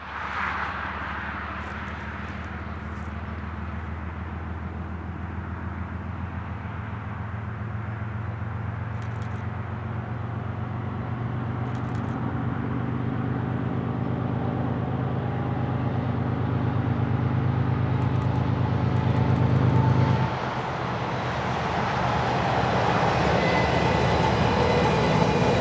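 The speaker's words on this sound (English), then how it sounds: "the BNSF track geometry train surprises us," A BNSF track geometry train rolls past on the mountain mainline at Marias Pass, a long steady rumble of engine and wheels that builds in loudness, peaks close by, then shifts tone as it moves on, with no talk.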